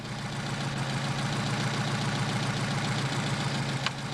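A Mercedes 190SL engine idles at about 700 RPM on Solex 44PHH carburetors, a steady low, even thrum with a fine rhythmic pulse, close and continuous, with a tiny click near the end.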